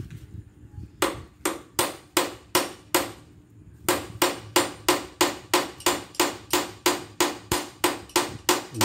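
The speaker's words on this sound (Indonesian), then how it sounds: "Ini saya palu pakai obeng getok ya" A hammer striking the end of a screwdriver to loosen a motorcycle handlebar bolt gives sharp metallic taps. A few come singly, then a long steady run of evenly spaced blows, close and clear.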